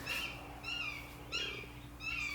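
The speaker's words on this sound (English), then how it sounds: "that's that bird from the other video. And it's the hawk" A hawk gives a series of four repeated high, harsh calls in an outdoor setting, each a descending scream a few tenths of a second long, fairly close and clear over a steady background hum.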